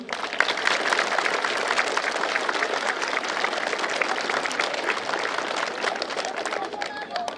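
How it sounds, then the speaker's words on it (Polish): Loud, dense applause welcoming first-year pupils at a school year opening ceremony in Jasień, continuous clapping from a large crowd with some voices mixed in. "powitajmy ich wielkimi oklaskami"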